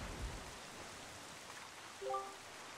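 Rain falls steadily on a cursed island under dark clouds in the video game The Wind Waker, a soft, constant hiss that stays low and even throughout, with a brief tonal chime near the end.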